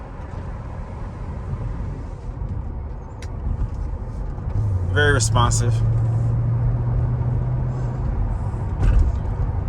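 A 2006 Mercedes SL500 with coilover suspension and a RENNtech tune cruises on the road, its low engine and road rumble steady inside the cabin while someone talks briefly over it.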